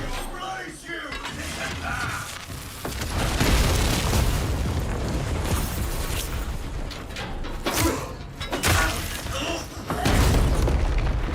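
Booming explosions and rumbling, grinding mechanical noise from the Soulframe video game, loud and dense, with surges of blasts building over several seconds and a voice faintly present beneath.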